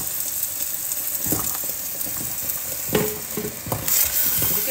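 Ground tomato, garlic and ginger masala sizzles and fries steadily in a pan, with intermittent stirring clatters and scrapes of a spoon against the metal over the continuous hiss; no one speaks.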